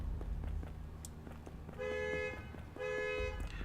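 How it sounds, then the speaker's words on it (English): A car alarm sounds outside, two sustained electronic tones with a break between them, moderately loud over faint background rumble. "Hopefully you can't hear that car alarm going off."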